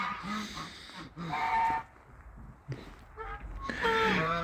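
Domestic geese and ducks out on snow give intermittent honks and quacks at close range, with brief quieter gaps between calls.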